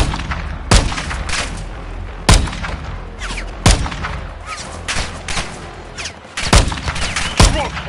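Gunfire in Call of Duty Modern Warfare II during a firefight, loud and sustained, with several sharp heavy reports standing out over a dense layer of continuous shooting.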